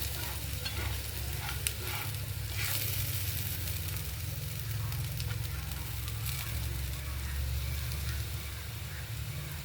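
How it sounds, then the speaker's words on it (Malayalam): Jackfruit seeds fry in a pan with a constant crackling sizzle, broken by a few scraping stirs of a spatula, close and steady with a low hum of a flame or fan beneath. "ചക്കക്കുരു നല്ലപോലെ ഫ്രൈ ആയിട്ടുണ്ട്"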